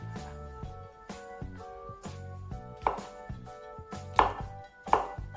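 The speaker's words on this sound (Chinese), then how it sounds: "再将肠切成小丁" A knife dices sausage into small cubes on a cutting board, with a quick run of close, irregular chopping strikes, several sharper and louder, over soft background music.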